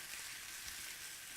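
Ground pork browning in a pan for spring rolls, giving a steady, soft broadband sizzle and crackle with no talk over it.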